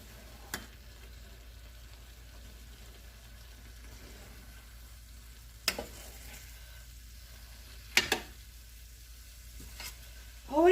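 Ground meat sizzles steadily in a hot pan while it is stirred, a low continuous frying hiss broken by a few sharp scraping clatters of the spoon against the pan.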